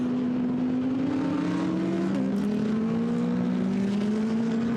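GT race cars on the Nürburgring circuit during a Blancpain GT Series race, engines droning and shifting pitch as they pass at a distance, steady and moderately loud with no voices.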